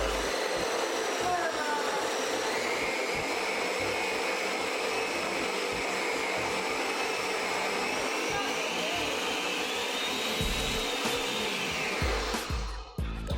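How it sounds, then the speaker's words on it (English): A blender runs continuously, whirring Oreo cookies into a mushy mix, its steady motor drone loud and close before cutting off abruptly at the end. "Then we're gonna blend it one more time"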